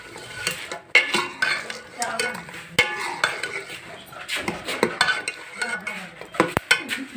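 Spices get stirred into food in a cooking pot, a spoon scraping and clinking against the metal in an uneven rhythm of close, sharp knocks over a light sizzle.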